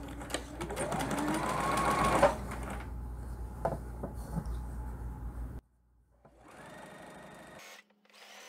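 Sewing machine running a back stitch along a round patriotic tablecloth of blue fabric: a loud, steady mechanical whir that cuts off abruptly, pauses briefly, then starts up again, with no talk.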